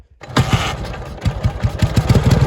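A Dnepr MT motorcycle engine being started: a click, then a burst of cranking and a rough engine catching into irregular, loud, close firing pulses.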